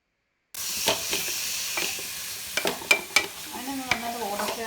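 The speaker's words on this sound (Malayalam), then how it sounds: "അപ്പോൾ നമുക്ക് ഉപ്പൊക്കെ ചേർത്ത് കൊടുത്ത് ഒന്ന് നന്നായിട്ട് വഴറ്റിയെടുക്കാം." Onions with salt are sautéed in a pan for a Kerala-style country chicken curry: after a brief silence, a sizzling hiss begins, punctuated by sharp spoon scrapes and clinks against the pan.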